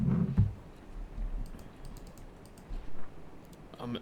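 Light, scattered clicks of typing on a computer keyboard during gameplay, faint and irregular, with a couple of soft thumps at the start and end.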